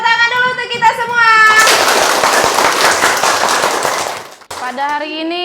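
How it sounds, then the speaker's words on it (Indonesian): A class of schoolchildren claps hands in loud, dense applause for about three seconds, preceded and followed by a teacher's voice speaking to them. "Oke, tepuk tangan dulu untuk kita semua."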